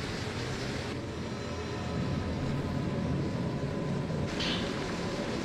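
Water pours without pause in a video game waterfall, a dense, even roar that swells slightly partway through, with no voices heard.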